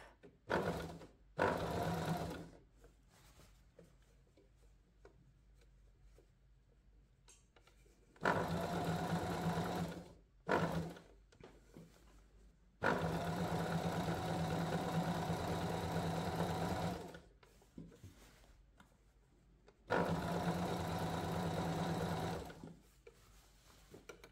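A sewing machine sews a blouse yoke along the cut line at a 1 cm seam allowance, whirring loudly in several long, close runs separated by quiet gaps.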